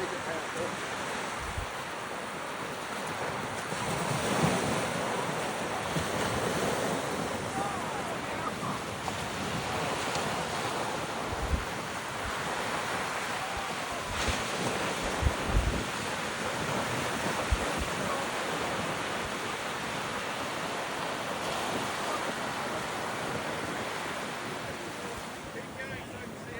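Ocean waves wash onto a Busan beach on a cold 9-degree day, a continuous broad surf roar with gusting wind buffeting the microphone and occasional thumps.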